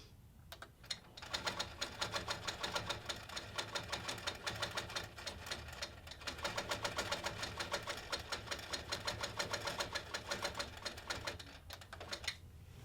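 A sewing machine stitches in the ditch along a ruler with a fast, steady mechanical chatter, running continuously at close range with brief slowdowns.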